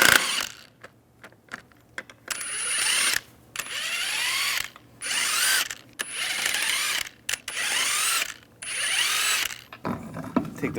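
Repeated bursts of an impact wrench spinning lug nuts off a 2005-2006 Chevrolet Silverado 1500 wheel with a 22mm socket, loud whirring rattles broken by short pauses between nuts.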